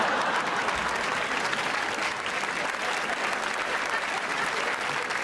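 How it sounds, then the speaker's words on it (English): A stand-up comedy audience breaks into loud, sustained applause, with dense clapping throughout, a bit of crowd noise and no speech over it. "you notice how they all started clapping right there?"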